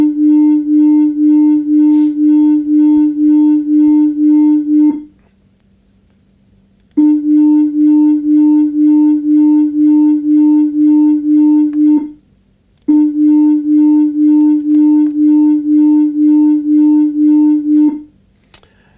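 Three long steady tones, each about five seconds with short silences between, a 300 Hz and a 302 Hz tone beating in a slow pulsing swell of loudness.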